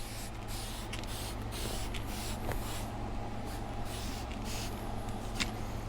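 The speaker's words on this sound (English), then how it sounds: "If you have a good sprayer nozzle, you can have really good control and not have it just go everywhere." A sprayer nozzle mists cleaner onto leather car seats in several short hissing bursts over a steady low background hum, close by, with no speech.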